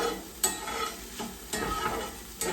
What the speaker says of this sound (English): Give those another little stir around